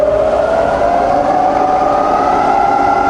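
A fully rebuilt Bridgeport milling machine runs its spindle at low speed, giving a steady, even mechanical hum with a sustained tone that holds unchanged throughout, with no talking.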